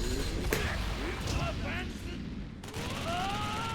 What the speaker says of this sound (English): big punches you, explosions in the background